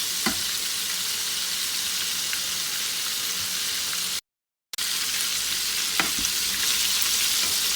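Chicken popcorn fries in hot oil with a steady, soft sizzle and occasional crackles and pops, close by and without speech, broken by one brief silent gap midway.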